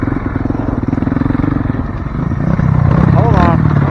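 A motorcycle engine idles loudly and close with a rapid, steady chugging that swells slightly toward the end, while people talk over it.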